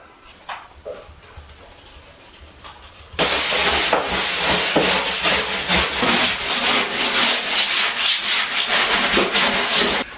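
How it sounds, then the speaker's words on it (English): A palm sander fitted with 150 grit paper sands a bathtub. Quiet handling noises lead into a loud, steady, close buzzing rasp that starts abruptly and runs continuously to the end. "now I'm going to sand it with the palm sander"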